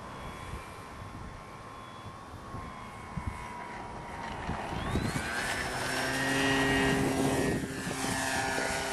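An electric-converted Sig LT-25 model airplane flies overhead in wind, its propeller whine rising and falling as it passes, growing louder and nearer toward the end over steady wind noise.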